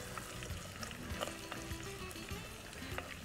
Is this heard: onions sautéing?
yes